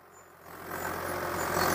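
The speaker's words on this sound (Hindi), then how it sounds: "ये तो मेरे बहुत कहने पे ट्रैक्टर लेके आए हैं जुताई करने के लिए" A Swaraj 735 XT tractor engine runs on a farm before ploughing, a low, steady rumble that grows louder and rougher over the brief stretch.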